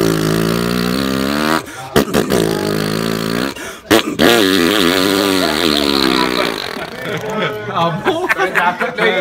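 A big BMW motorcycle engine runs close and loud with a throbbing idle, revving with choppy bursts and brief cut-outs, while people talk over it.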